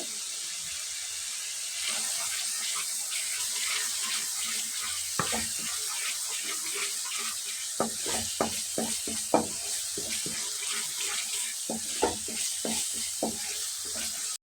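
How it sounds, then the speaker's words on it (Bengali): Spiced masala paste with yogurt sautéing in a pan for a paneer dish, giving a steady close sizzle, with frequent scraping strokes and clinks from the spoon as it is stirred. "আবার একটু কষিয়ে নিতে হবে মশলাটা দইটা দিয়ে।"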